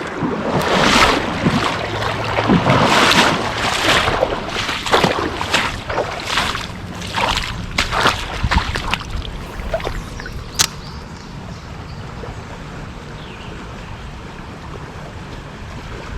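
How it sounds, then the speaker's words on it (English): Fast-moving water of the north branch of the Saline rushing over slick rocks in a stream, a loud, steady broadband wash with splashy bursts and wind across the whole stretch, no talk. "Fast moving water."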